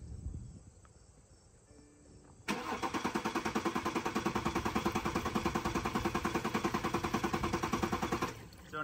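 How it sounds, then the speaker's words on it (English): After a quiet start, a car engine that has been run on gasoline cranks over on the starter, giving a loud, fast, steady chugging rhythm for about six seconds before it abruptly cuts off without catching. "I think it has to try cranking."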